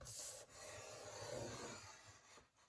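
A tool is drawn along card stock to score fold lines for a handmade greeting card, giving a soft, steady scraping rub for about two seconds. It is close and quiet, with a brief click at the end and no talk.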